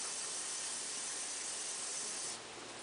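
Steady hiss of a cup of liquid poured into a hot pan of ground sirloin seasoned with garlic and onions, close and loud, easing slightly near the end.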